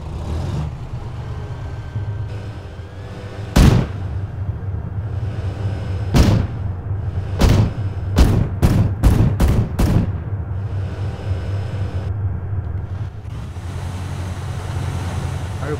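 Heavy 35mm anti-aircraft cannon fire from an IFV-6a Cheetah in Arma 3: a single loud shot, then another, then a rapid burst of five or six booming rounds over a steady engine rumble.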